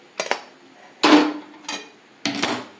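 Puffed paddy rice mixture poured onto a metal plate in bursts, four separate rattling, clinking pours with short pauses between, close and clear with no talk.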